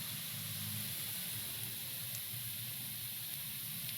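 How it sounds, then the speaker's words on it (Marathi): Moong dal, spinach and coriander thalipeeth frying in oil on a griddle, giving a soft, steady sizzle and hiss that runs evenly throughout at low volume, with no talk. "तव्यावरती आपण छान तेल असं पसरून घ्यायचं आहे आणि छोटे छोटे हाताने असे वड्या प्रकारे आपण थालीपीठ हे करणार आहोत"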